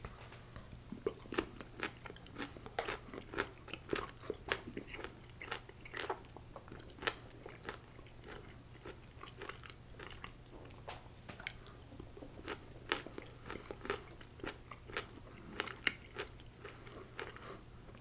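Close, steady crunching and wet chewing of pickles, with repeated crisp bites and squishy mouth sounds spread evenly throughout, no talking, over a faint constant low hum.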